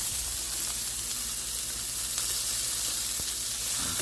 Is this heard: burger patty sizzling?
yes